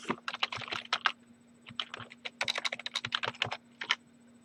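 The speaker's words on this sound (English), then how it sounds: "if we type the server's IP" Quick bursts of computer-keyboard typing, a fast run of light clicky keystrokes, a short pause, then another flurry, close and fairly quiet over a faint steady hum.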